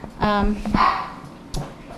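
A dog at the Dubois County Humane Society shelter barks and yelps a few times in short bursts, close by, with voices around it.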